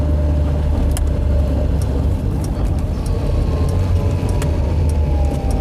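A Skoda Favorit on cheap tyres drives on a road toward a roundabout, its engine a steady mid-pitched drone with road rumble from inside the car, continuous and loud, no talk.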